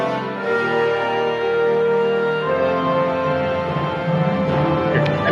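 A podcast segment jingle plays, a dense bright musical sting with sustained tones and steady loudness throughout, with no talking over it.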